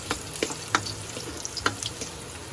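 Ginger sautéing in a pan for Filipino fish escabeche, a soft steady frying sizzle with several sharp clinks and scrapes of stirring scattered through it, no talk.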